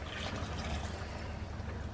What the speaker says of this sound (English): And this wine, I'm just going to pour straight in there